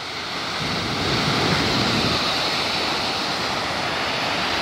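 Floodwater rushing through a street in Daegu, South Korea, a loud, steady broadband roar of churning water that holds constant close to the microphone throughout.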